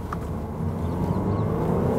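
Audi A5 Cabriolet with a 2-litre diesel engine making 190 bhp, downshifting and pulling hard, a steady low engine drone and rumble that holds loud and close throughout with no talk over it.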